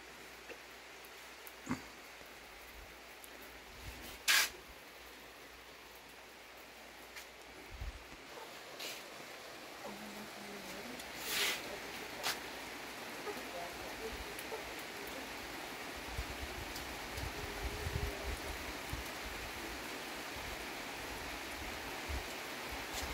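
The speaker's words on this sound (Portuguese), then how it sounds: "e a chuva aumentou" Rain grows heavier outside a house construction site, a steady broadband hiss that fills the background, with scattered sharp knocks and thumps now and then.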